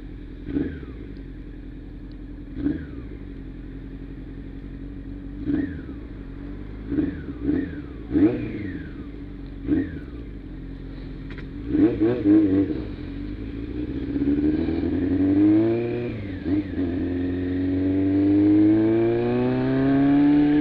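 Idling motorcycle engine with a stubborn carburetor blips in short, sharp revs, pausing between bursts, then climbs into a longer rising rev that holds high and steady near the end.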